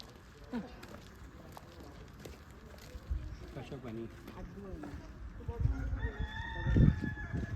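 A rooster crows in the distance, its call rising out of steady background noise while people talk nearby.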